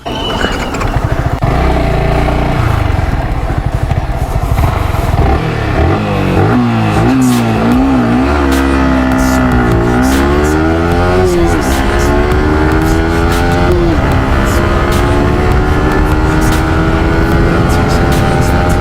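A motorcycle engine roars loudly and continuously, its pitch climbing and dropping repeatedly as it accelerates through successive gears.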